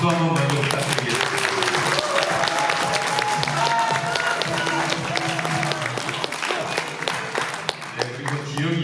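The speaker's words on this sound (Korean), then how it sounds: "우리 박용국 위원장님께 그래도 뜨거운 한화 박수 한번 먼저 부탁드리겠습니다" Delegates at a Democratic Party regional convention in Pocheon–Gapyeong break into warm, sustained applause, loud and continuous, with voices and some tonal background sound mixed underneath.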